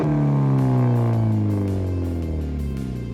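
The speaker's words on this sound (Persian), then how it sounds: "بریم صدا اگزوزشو بشنویم." A car engine revs hard through its exhaust, a deep, loud, continuous roar with pitch that sweeps down and settles, close by with no voices.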